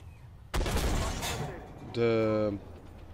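Tank main gun in Armored Warfare fires HEAT ammunition: one sharp loud blast with a rolling decay, followed by a tonal mechanical whine, with a voice talking faintly beneath.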